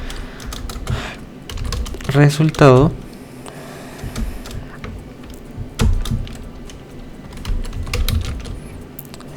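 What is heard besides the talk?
typing on a computer keyboard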